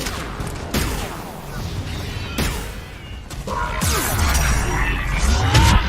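Gunfire in the video game Mass Effect 3: loud, sharp weapon blasts and crashing impacts, separated by short pauses and then packed together into a dense, heavy volley.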